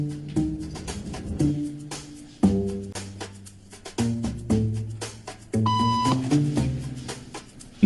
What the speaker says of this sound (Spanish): Un pitido significa que hay que levantarse